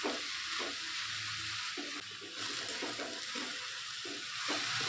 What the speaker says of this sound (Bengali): এটাকে এভাবে নাড়িয়ে নেব এভাবে একটু নাড়াতে হবে যেন লাল শাকটা কড়ার নিচে ধরে না যায়